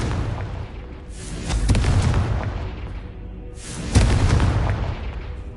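Two Confringo spell blasts in a Harry Potter video game, each a loud, booming, explosive whoosh that swells and then fades, about three seconds apart.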